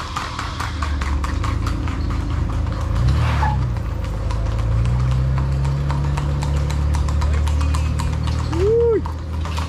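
Horse hooves clip-clop in a steady, rapid rhythm close by during a group horseback ride in Hormigueros, Puerto Rico, with a vehicle engine humming underneath.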